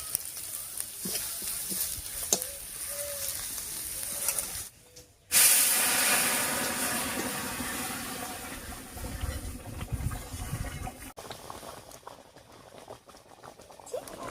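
Cooked lentils tipped onto hot tempering with turmeric and crushed ginger in a pan burst into a loud, steady sizzle and hiss that slowly fades, after quieter frying crackles.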